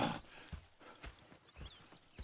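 Horses in the Red Dead Redemption 2 video game, with rhythmic clip-clop hoofbeats on the ground and brief neighs and snorts, fairly quiet and near.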